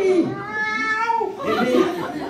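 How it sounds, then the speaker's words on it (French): A cat meows in long, wavering, drawn-out cries with a laughing, caterwauling quality, heard close and fairly loud across a couple of seconds. "il m'a répondu en miaulant"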